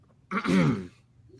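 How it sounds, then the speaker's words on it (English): A single short throat clearing, close and fairly quiet, with nothing else around it. "I clear my throat."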